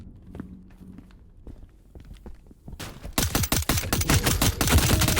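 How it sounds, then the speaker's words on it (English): Rapid gunfire from the video game Transience, first scattered sharp shots and footsteps, then a dense, loud burst of repeated automatic fire that fills the rest of the moment. "I heard shooting that was in the next room over"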